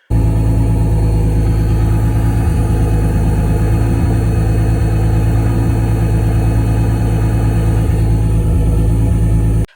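A Z car's engine runs steadily while being driven, a loud, close, continuous low rumble with strong harmonic drone and slight shifts in pitch, no voices present throughout.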